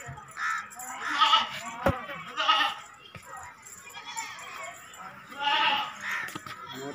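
Goats bleat several times in a pen of breeding-quality billy goats, calls rising in loud bursts close by with barnyard shuffling and a sharp clack between them.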